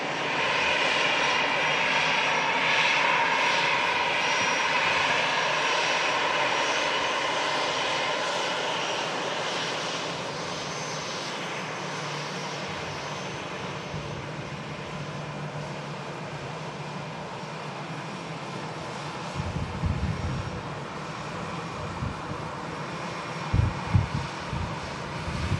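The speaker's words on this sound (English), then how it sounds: "757 next to land." A Boeing 757 comes in to land, its jet engines a loud, sustained roar that slowly fades and shifts as it passes, with wind buffeting the microphone toward the end.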